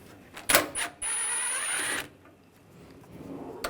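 A 10mm socket removes hood-area bolts on a 2014-2019 Toyota Corolla, giving a sharp ratchet click, a short rapid whir of spinning, then quiet, all close and alone.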